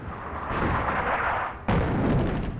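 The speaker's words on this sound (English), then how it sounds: "Artillery there." Heavy artillery booms in the wargame Attack at Dawn: North Africa during the First Battle of El Alamein, with two loud, rumbling blasts in succession, the second sharper and closer.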